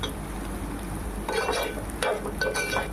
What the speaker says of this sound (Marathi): कांदा थोडा लाल करून घेऊ